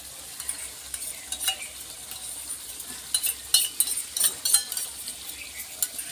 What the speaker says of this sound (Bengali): এবার এতে দইটা দিয়ে দেবো।